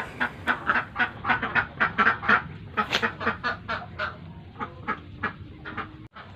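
A flock of egg-laying ducks on a duck farm quacks in a dense, rapid chorus. The loud overlapping calls come close together, then thin out slightly toward the end.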